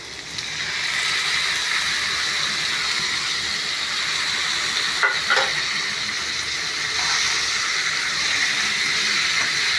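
Four chopped tomatoes fry in a pan for prawn dum biryani, a loud, even steamy hiss after a brief quieter start, with a couple of faint scrapes of stirring.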